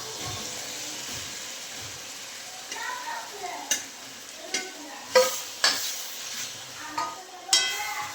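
Spinach frying in a pan with a steady soft sizzle and several sharper clinks and scrapes of stirring, close by.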